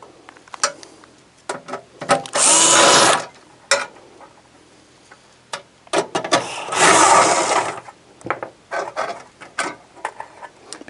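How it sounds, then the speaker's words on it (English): A power driver with an extension and 5/16 bit backs out the four corner screws holding a refrigerator fan, giving two loud sustained whirring bursts amid scattered clicks and handling knocks, close by. "In order to remove the fan, I'll need to use an extension and a 5/16 bit."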